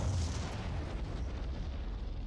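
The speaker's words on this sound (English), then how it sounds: "The missiles are still dropping." Distant, muffled missile strike explosions rumble in a 1980s-era military strategy video game, low booms rolling under a faint background haze.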